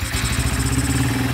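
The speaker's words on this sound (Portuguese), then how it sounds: "E a moto tá normal, ó. Liga ela de novo aí" Honda Titan 160 motorcycle with a Fortuna aftermarket exhaust running close by, a loud steady idle with a rapid rhythmic chugging pulse and some mechanical clatter.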